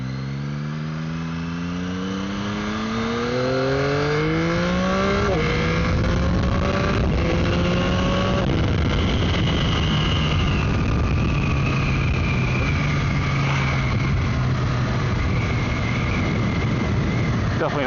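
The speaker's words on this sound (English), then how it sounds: "Definitely not full throttle, but nice little rip there in first, second, a little bit of third gear" A Yamaha R9 motorcycle engine revs loud and close, climbing in pitch through first, second and into third gear with two clear shift breaks, then settling into a steady high drone with wind noise.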